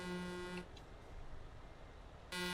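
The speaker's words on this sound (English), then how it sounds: "Who's honking today?" In the TruckersMP trucking game, a truck horn on a jammed roundabout sounds one long steady blast, falls quiet for under two seconds, then starts again right at the end.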